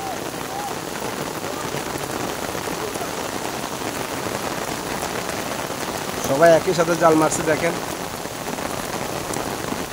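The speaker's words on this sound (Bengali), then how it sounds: "প্রচুর বৃষ্টি হইতেছে, প্রচুর অনেক বৃষ্টি।" Heavy rain falls during flooding in Nangalkot, Cumilla, as a loud, dense, continuous patter, with someone speaking briefly over it near the middle.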